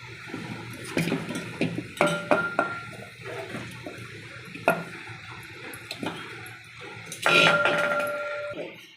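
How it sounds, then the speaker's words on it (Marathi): Okra goes into a pan and is mixed with tomatoes, producing close metallic clinks and scraping stirs in irregular bursts, plus a louder clatter near the end. "आता टाकूया आपण भेंडी आज भेंडी मिक्स करायची टोमॅटो आणि भेंडी"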